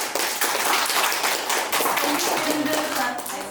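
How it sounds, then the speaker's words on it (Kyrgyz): Applause for schoolchildren at a school event: dense, steady clapping from a crowd, fairly loud and continuous throughout with no break. "Келиңиздер, балдарыбызды жулук кол чабуулар менен коштошкула"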